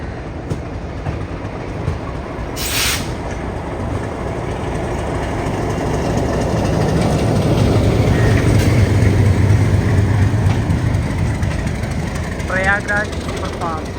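Empty rake of the Prayagraj Express being shunted at a station, a loud rolling rumble of rail wagons with clickety-clack building over several seconds, a short horn-like blast early on and people talking over it.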